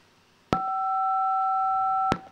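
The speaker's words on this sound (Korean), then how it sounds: "네, 벨이 울렸습니다." The start bell at an outdoor 145cm show jumping Grand Prix rings as a steady, two-toned electronic tone lasting about a second and a half, framed by sharp clicks at its start and end over quiet background.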